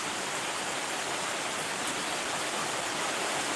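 Rain falling outdoors as a steady, even broadband hiss that fills the whole stretch at moderate level, with no voices over it.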